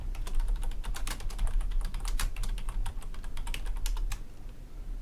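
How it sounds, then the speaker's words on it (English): Fast typing on a computer keyboard while entering text in Word, a dense run of close, crisp key clicks with brief pauses, no voices. "I'm going to come into Word, and I'm going to type all those out again."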